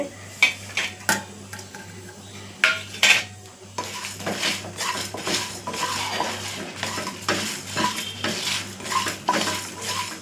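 Fennel, cumin and pepper dry-roasting in a pan while a metal spoon stirs them, with sharp clinks and scrapes against the pan over a faint sizzle, close and fairly busy.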